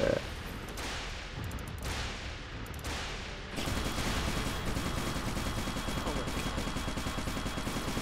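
Gun turrets firing in the Fallout Equestria: Remains video game, a rapid sustained burst of shots that starts in spaced volleys and then becomes a dense continuous rattle, fairly loud and close.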